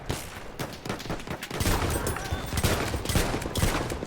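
A pump shotgun fired in Battlefield 1, within a dense, continuous barrage of loud gunshots and battle noise, with no clear gaps between the shots.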